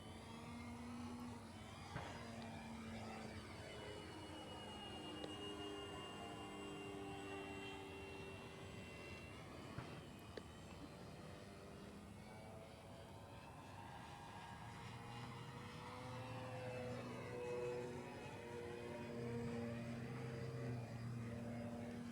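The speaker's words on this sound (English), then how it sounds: "I'm going to do a little presentation pass so Dave can get a look at the plane." An FMS 1400mm Pitts v2 RC model biplane makes a low presentation pass, its electric motor whining steadily with pitch sweeps as it approaches and recedes, fairly faint throughout.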